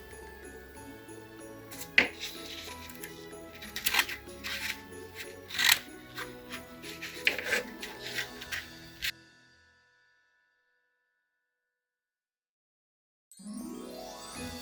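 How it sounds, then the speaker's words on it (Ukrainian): Scissors snip through folded paper while cutting a paper snowflake, a run of crisp, close cuts and rustles for about nine seconds, then silence, and a brief rising sound at the very end. "Цю частину ми відрізаємо ножицями"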